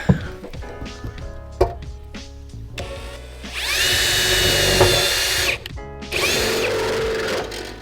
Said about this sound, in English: we can drill holes right through this roof, right underneath the solar panel